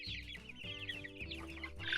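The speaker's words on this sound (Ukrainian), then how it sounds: "Курчата активні, пропоєні, гамають" Many small Leghorn chicks peep and cheep in a busy, overlapping chorus, close by, with constant high-pitched chirps and no talking.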